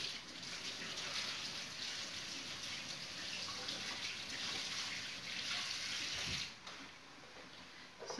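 A kitchen tap runs steadily for several seconds while cooking zucchini and meat patties, a close, even hiss of flowing water that stops near the end, with no talk over it.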